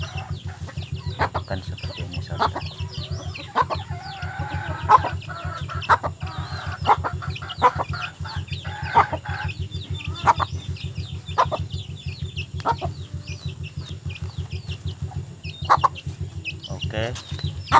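Newly caught wild junglefowl cluck in a steady stream of short calls throughout, close and fairly loud over a constant low hum, with a person speaking briefly.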